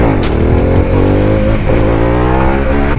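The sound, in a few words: Harley-Davidson Pan America 1250 motorcycle engine revving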